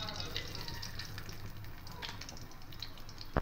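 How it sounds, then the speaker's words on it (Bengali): Black cumin seeds sizzling in hot oil left over from frying pomfret, a steady close crackle and hiss running throughout, ending in a short louder burst. "এবার এই তেলের মধ্যে কালো জিরে ফোড়ন দেব"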